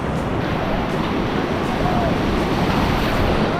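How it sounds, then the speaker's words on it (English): Rough surf at a beach in Bali, a steady broad roar of breaking waves and churning water close by, with wind buffeting the microphone throughout and no clear individual crashes standing out. "These waves are rough."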